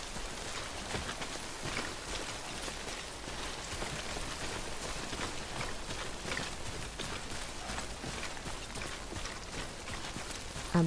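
Steady rain in the Death Stranding video game, a dense continuous patter of drops on the ground, moderately soft and even throughout with no voices.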